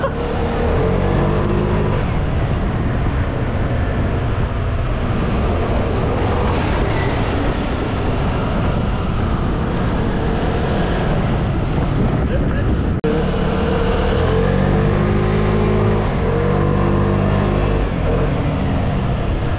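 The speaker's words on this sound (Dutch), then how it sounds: "Deze Vespa is 125 cc, ongeveer 10-11 pk. En ik moet zeggen, het rijdt wel echt heel top." A 2021 Vespa Primavera 125cc scooter of about 10-11 hp riding toward Positano on the Amalfi Coast, its engine humming steadily under heavy wind rush, with a voice talking over it.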